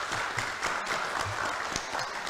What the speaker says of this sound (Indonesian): Tepuk tangan boleh teman-teman?